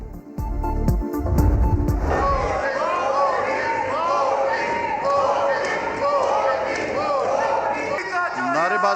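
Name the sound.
lawmakers chanting slogans in National Assembly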